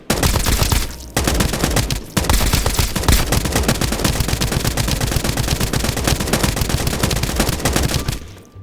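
Rapid automatic gunfire from a video game weapon aimed at an armored enemy, sustained fast bursts broken by two brief pauses, loud and close with no talking.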